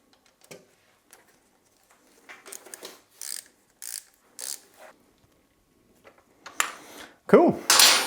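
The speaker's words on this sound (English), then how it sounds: "Tighten that grommet up." Someone tightens a grommet on a motorcycle, giving a few short mechanical ratcheting clicks and clunks spaced across the moment, close by, with voices talking near the end.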